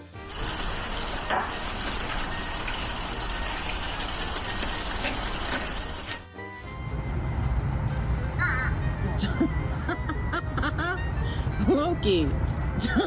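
Crows caw in short harsh calls, heard mainly in the second half after a loud noisy opening stretch, with people talking over parts of it.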